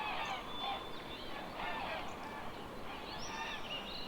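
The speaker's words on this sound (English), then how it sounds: "Those bird sounds are for you." Goose-like honking bird sound effects play over a live game stream, a busy cluster of honks and squawks running continuously at moderate level with faint talk underneath.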